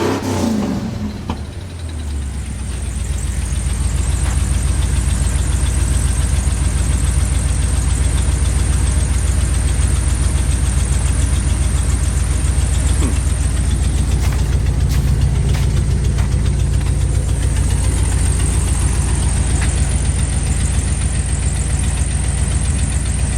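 A Chevy squarebody truck engine runs steadily on used, slightly fouled spark plugs, a loud close-up rumbling idle that holds constant after a brief start, with a faint knocking roughness underneath.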